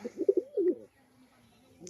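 Setting pair of pigeons cooing close by, a few soft throaty coos bunched in the first second, then near quiet with a faint murmur at the end.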